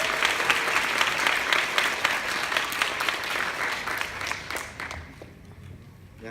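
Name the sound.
audience applause welcoming a speaker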